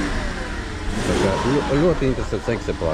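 BMW E36 engine running steadily during a test lap, a mid-pitched drone that swells slightly as the car pulls, with someone talking over it.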